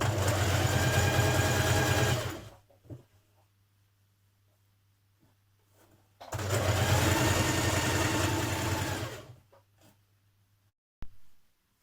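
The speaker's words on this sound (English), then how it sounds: "Top stitch around your neckband" Topstitching around the neckband of a Burda 6240 summer dress, a sewing machine whirs in two sustained runs, the second a little longer, with a low motor hum lingering between them, close up and alone.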